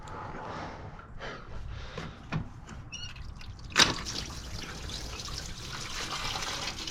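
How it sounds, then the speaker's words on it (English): Engine coolant trickles and splashes steadily from the thermostat housing of a 2006 Honda Civic 1.8L into a drip pan, a continuous close liquid flow with a brief metallic clink partway through. "that's a lot of coolant actually came out"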